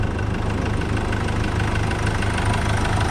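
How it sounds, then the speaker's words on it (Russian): A diesel tractor engine idles steadily after starting, a low, even rumble with a faint knocking rhythm, close by and running alone without voices. "Запустился мой трактор."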